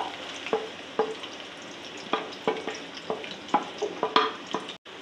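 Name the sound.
onions frying in oil for haleem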